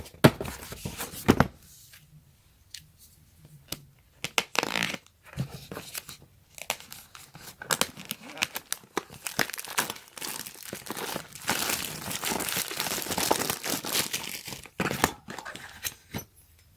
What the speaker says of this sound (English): Let's go ahead and unbox this paper towel holder real quick.